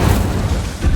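A loud, close burst of fire from the Incendio spell in Hogwarts Legacy, a short roaring blast that swells again near the end.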